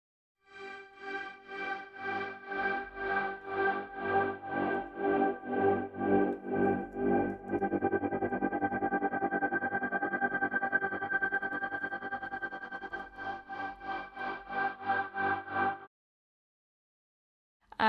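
Synthesized tones with their amplitude ramped linearly across a range, pulsing in regular swells, then smoothing into a sustained buzzy drone before pulsing resumes and stops, heard alone at moderate level.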